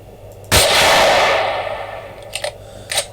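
Weapon sound in the video game Empyrion Galactic Survival: one sharp loud blast with a decaying ring, followed by two short clicking mechanical reload clacks, close and clear with no talk.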